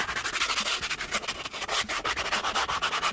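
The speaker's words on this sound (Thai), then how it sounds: "มันจะมีตัวฝาเนี่ย มันจะมีตัวขัดนะ เดี๋ยวผมลองขัดแบบนี้นะครับค่อยๆขัด" Brush cap of a foam cleaner scrubbing a car seat inside a vehicle cabin, a rhythmic, close, raspy rubbing in quick back-and-forth strokes, with no voice.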